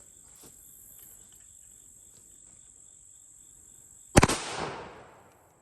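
A Panzer M4 shotgun loaded with Fiocchi 2 3/4 inch double-aught nickel-plated buckshot fires one sharp, close blast that rings out and decays after several seconds of quiet outdoor ambience with a steady high insect trill.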